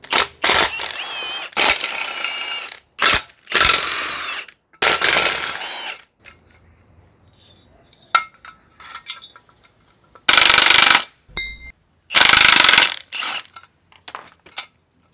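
A socket wrench works the four 9/16 blade nuts loose on a Honda lawnmower, giving sharp clicking and ratcheting bursts at the start, then sparse faint ticks and metal clinks, then two loud harsh bursts near the end.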